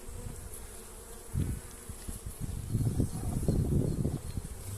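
A dense, continuous hum of many honeybees buzzing up close in a packed hive, swelling louder toward the middle with some faint rustling.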